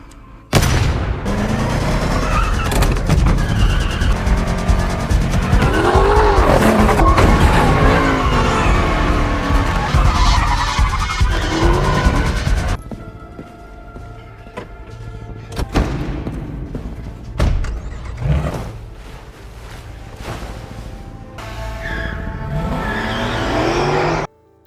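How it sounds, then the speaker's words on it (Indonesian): A car tears away at high speed during a chase scene, with roaring engine, squealing tires and skids, then a quieter stretch of scattered impacts and bangs mixed with music and effects, no voices heard. "Dipenuhi adrenalin, Mike pun kabur dengan kecepatan tinggi"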